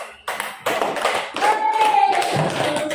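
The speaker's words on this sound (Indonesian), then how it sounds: "Silakan kita tepuk tangan." A group claps together after a classroom science presentation on heat energy, producing a burst of dense, close applause that keeps going through the clip.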